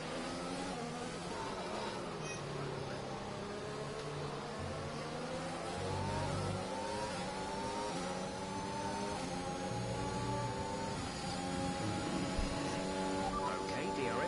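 A racing car in a racing video game accelerates as it gets back up to speed after a caution period, its engine note rising and whining steadily and loud throughout, with a voice speaking over it.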